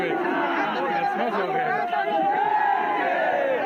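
A dense crowd murmurs and chatters at an outdoor rally where an activist appears, a constant hubbub of many overlapping voices with a nearer speaker talking over it.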